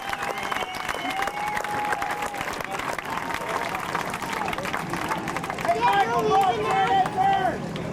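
A crowd at a NASCAR night race at Baer Field Speedway cheers and applauds in a continuous wash of noise, while an announcer talks over a public address system.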